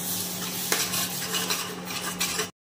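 Fried masala sautéing in oil for a spicy chicken rassa sizzles steadily while a spoon scrapes and clinks against the pan. One sharp clink stands out early, and the sound cuts off abruptly.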